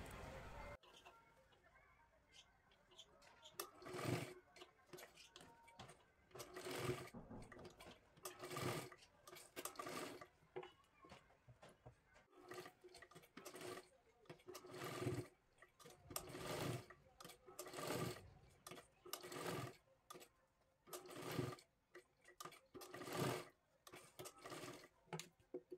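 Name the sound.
sewing machine stitching a lehenga dress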